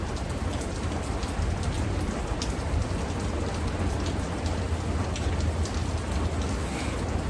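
Steady rain drums on a metal roof, a dense, constant patter of drops close overhead with a faint low rumble beneath, unbroken and without any voices.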